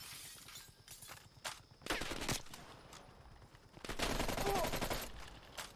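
Rapid automatic gunfire in the video game Call of Duty Black Ops Cold War, with several sharp bursts and a longer sustained volley near the end, fairly faint overall.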